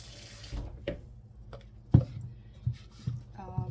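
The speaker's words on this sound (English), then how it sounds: "I'm going to put a little water in" Water splashing and trickling into a bowl of cornmeal in a few short pours, close up, with quiet clinks and scraping between.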